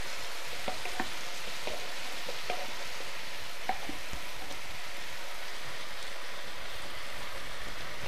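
A pan of spinach and pumpkin curry with cream simmers and sizzles in a steady, dense crackle, with faint clicks of a spoon stirring through it and no voices.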